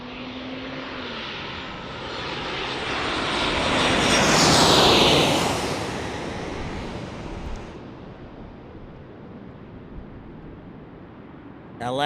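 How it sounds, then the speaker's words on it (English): A Southwest Boeing 737 MAX jet takes off from San Diego bound for Chicago Midway, its engine roar swelling to a loud peak as it passes, then fading to a distant rumble, with no voices. "that Southwest MAX lifts off to Chicago Midway"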